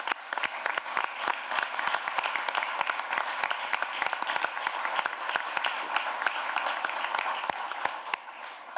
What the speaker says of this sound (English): Give them a huge round of applause once again.